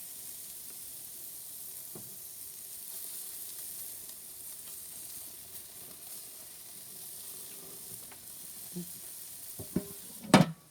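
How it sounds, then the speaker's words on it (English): Tandoori chicken sizzling steadily on an outdoor barbecue, a continuous soft hiss with a few louder crackles and clinks near the end. "Back to the barbecue, it'll all be done now."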